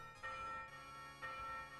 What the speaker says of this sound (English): wait for the bell to stop ringing